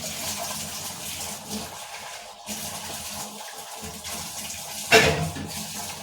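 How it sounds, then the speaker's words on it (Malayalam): Water poured from a vessel into curry gravy in a pan, a steady close splashing pour with a brief sharper burst near the end. "നമുക്ക് ആവശ്യമുള്ള ഗ്രേവിക്ക് അനുസരിച്ചാണ് വെള്ളം കൊടുക്കണേ"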